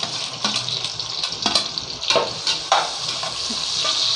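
Onions fry in a pressure cooker pot for chicken biryani, a steady close sizzle with scattered crackles and stirring scrapes throughout.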